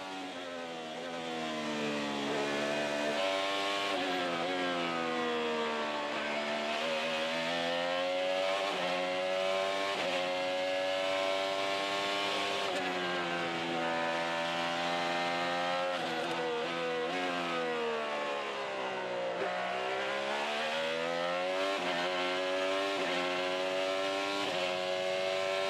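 IndyCar race cars scream through qualifying at the Mid-Ohio circuit, engines rising and falling in pitch as they accelerate and shift. The loud, continuous whine holds for the whole stretch with no voices over it.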